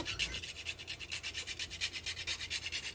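Rhythmic scraping of a rock-hard onion rubbed back and forth on a small hand grater, steady close strokes repeating about every quarter second with no talk.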